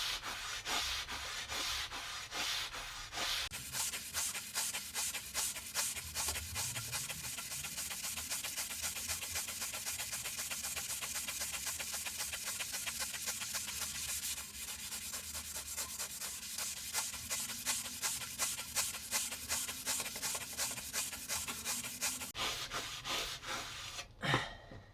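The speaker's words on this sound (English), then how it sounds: "just going to use this Scotch-Brite just to tone it down a bit" A Scotch-Brite pad rubbed over a 316L stainless steel heart for a brushed finish, a fast continuous rhythmic scrubbing rasp lasting the whole stretch, close and steady with a faint low hum beneath and no speech.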